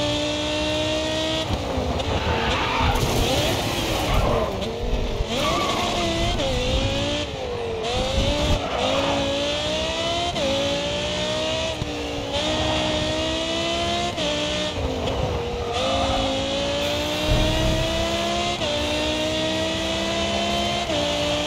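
Race car engines roar and rev steadily in Grid 2, with pitch rising and falling through gear changes and tires squealing faintly throughout the loud, continuous run.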